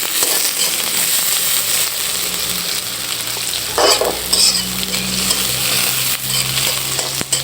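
Chopped onions with chilli sizzling loudly in a pan, stirred lightly with occasional scraping and clinks over a continuous fry; no voices.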